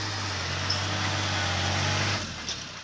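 A tractor's engine hums steadily close by as it pushes soil to widen a road, a low, even drone, then drops away near the end, leaving quieter background noise.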